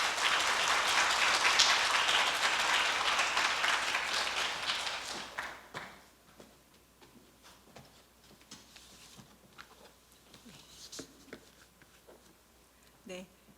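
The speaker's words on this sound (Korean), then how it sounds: "큰 박수로 맞이해 주시기 바랍니다" A hall audience at a university leader lecture claps warmly to welcome a guest speaker, the applause strong for about five seconds, then fading into scattered claps and light shuffling sounds, with a voice briefly starting to talk near the end.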